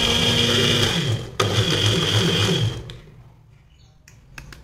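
An electric mixer whirs steadily as it beats eggs for brownie batter. The motor gives a continuous buzzing hum with a brief stutter midway, then cuts off and leaves quiet with a few faint clicks.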